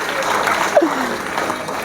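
An audience claps steadily at a Haryanvi ragni stage performance for a Haryana Day show, a dense, even patter of hands that holds for the whole moment with one brief louder swell partway through.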